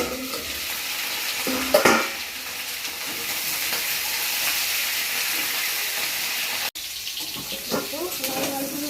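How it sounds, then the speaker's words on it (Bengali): Cauliflower fries in oil in a kadai, a dense, steady hiss and crackle that runs unbroken at close range, with a brief clatter partway through. "কপিটা ভেজে নেবো।"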